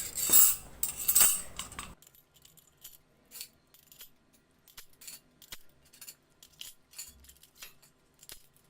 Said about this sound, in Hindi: इस मैशर में मेरे स्पून्स वगैरह जो है सब बड़ी आसानी से आ जाते हैं।